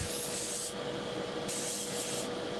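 Steady hiss of an aerosol can spraying primer onto a miniature figure, continuous with brief pauses between passes, close by.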